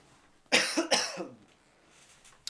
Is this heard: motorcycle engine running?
no